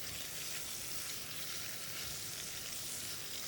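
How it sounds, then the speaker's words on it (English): Onions fry in a pan seasoned with salt and pepper for a quiche, a dense continuous sizzle at low, even volume with no talking. "When you hear the sizzling sound, then you can start stir it."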